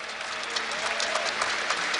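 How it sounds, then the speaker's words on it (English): Audience at a League of Legends Gamescom European regional final breaks into steady, even applause, a dense wash of clapping from a large crowd that holds at the same level throughout without talk. "Let's give him a round of applause right now."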